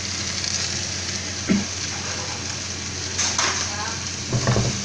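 Chopped braised duck is stir-fried in a spicy curry paste in a hot pan, with a continuous close sizzle. A few brief clatters of stirring break in along the way.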